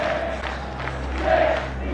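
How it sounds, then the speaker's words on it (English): A Premier League football crowd in Ted Lasso serenading Roy Kent with a chant: a sustained, faraway mass of voices singing together, swelling slightly toward the end. "the crowd serenades Roy Kent with a song that's echoed through the Premier League"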